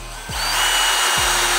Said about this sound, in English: It's handy to have your little power drill with you.